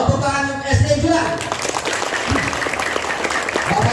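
Schoolchildren of SD Julang applaud at an Indonesian Independence Day school ceremony, a brief burst of close crowd clapping that follows a voice and then continues steadily.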